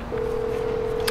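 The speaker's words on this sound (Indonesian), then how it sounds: "Oke, telepon ke mekanik" A single sustained phone dialing tone in GTA V as a call is placed to the mechanic, a clean steady beep lasting about a second with a brief blip at the end.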